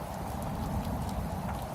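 Steady rain falls outside, a dense even wash of drops with no breaks, moderately loud and with no voices over it.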